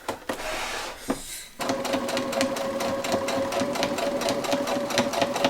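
A sewing machine stitches a plush toy, starting with a few short bursts and then running in a steady, fast rattling stitch rhythm up close, with no talking.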